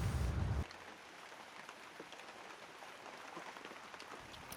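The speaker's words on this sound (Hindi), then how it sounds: "बारिश रुकी नहीं है" Steady rain falls at a trek camp in the Himalayas, a continuous even patter. It follows a brief louder rush at the start.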